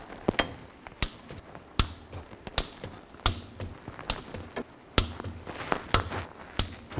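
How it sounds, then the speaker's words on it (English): A torque wrench tightens bolts in a crisscross pattern to 30 foot-pounds on the rear axle of a 2000-06 Chevy Tahoe, giving sharp, irregular metallic clicks and ratcheting taps, fairly close and moderately loud, with no talking. "Now I'm going to torque this to 30 foot-pounds and make sure you torque it in a cross pattern."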